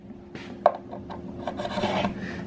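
Long drill bit boring bolt holes down through a fabric-laminated board still held in its mold, a steady close grinding rasp with a brief sharp catch early on that builds into continuous cutting.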